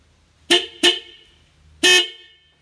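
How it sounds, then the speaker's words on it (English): Loud truck-style triple air horn set with compressor, bought on eBay, blasting three short close honks: two quick toots followed by a slightly longer one after a pause. "this is what the horn's gonna sound like"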